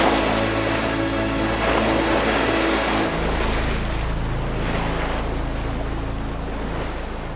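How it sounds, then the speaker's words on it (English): A boat crossing open sea toward Morotai and Halmahera, with a continuous low engine drone, wash of waves and wind buffeting the microphone, loud and steady throughout with no voices. "we turn east and sail 400 miles across the open water to Morotai"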